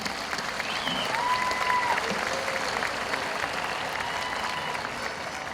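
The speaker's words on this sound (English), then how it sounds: "let's give them a nice round of applause, class of 2013" Audience at a high school commencement applauds the graduating class of 2013, a sustained, even wash of clapping with faint crowd murmur and a brief voice over it.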